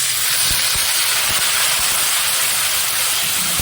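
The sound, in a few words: spice masala poured into hot oil, sizzling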